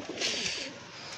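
A chatri pigeon gives a short, soft coo close by, a single brief call against quiet background noise.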